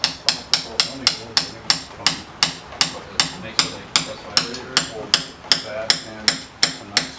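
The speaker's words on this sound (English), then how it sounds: "take your installation tool with the right kind of attachment that works best for your seal. And you go ahead, slip it on top, essentially, and give her a couple little taps" Sharp, evenly spaced taps of a hammer on an installation tool drive a valve stem seal into a 1JZ/2JZ engine head, about sixteen crisp metallic hits in a steady rhythm, close and fairly loud.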